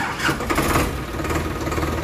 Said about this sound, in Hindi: जैसे ही मिस्त्री साहब इसकी आवाज़ सुनवाएंगे आपको ट्रैक्टर की